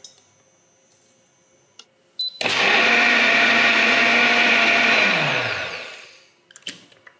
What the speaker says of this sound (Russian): Самое важное, чтобы блендер был правильно установлен, чтобы все это содержимое не вылилось на нас.